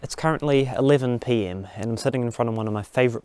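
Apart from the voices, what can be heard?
No everyday noise stands out behind the speech.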